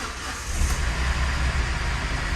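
A Ford Ka three-cylinder engine with a lit oil warning light runs close up after starting, a dense, steady mechanical roar that lasts about two seconds.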